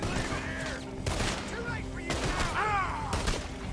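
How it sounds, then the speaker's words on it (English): Gunfire in the Western video game Red Dead Redemption 2, several bursts of shots crackling through a busy mix while voices talk over the shooting. "someone's still shooting me"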